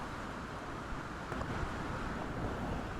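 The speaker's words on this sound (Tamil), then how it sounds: "எப்படி வந்து அலை போடுதுன்னு பாருங்களேன்" Steady low wash of surf with wind rushing across the microphone, a continuous roar with no voices.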